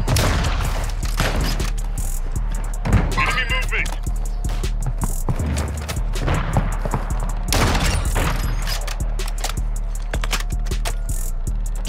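Sniper rifle fire in a shooter video game, with loud cracking shots and booms over a dense mix of gunfire and impacts, under excited talk from a player.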